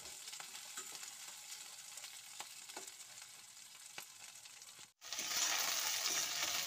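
Chopped onions and green chilies frying in oil for chili paneer, a steady close sizzle with faint stirring clicks, briefly dipping to near silence before the sizzle returns louder and brighter.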